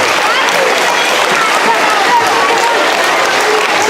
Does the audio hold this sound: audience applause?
yes